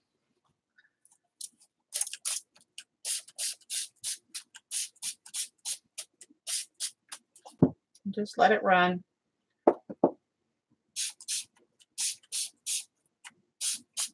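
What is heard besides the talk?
spray bottle spraying water on a watercolour painting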